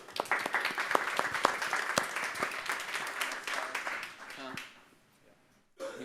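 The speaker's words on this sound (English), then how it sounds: "Everybody give Bill a round of applause" A tech meetup audience at a mini-talks session claps for a speaker, sharp close individual claps over a fuller round that dies away after about four seconds, leaving near silence before talk resumes.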